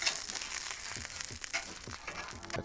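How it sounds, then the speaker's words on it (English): Kielbasa sausages frying in oil on a griddle give a bright, close crackling sizzle with small pops and a few scraping spatula touches. "Listen to that sizzle."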